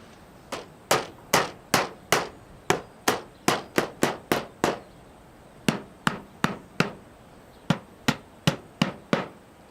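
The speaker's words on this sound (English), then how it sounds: "I'm just going to fix this apron flashing in place using these 30mm galvanised clouts" A hammer drives 30mm galvanised clouts to fix apron flashing, with about two dozen sharp, close metallic strikes coming in quick uneven runs with short pauses, and no talking.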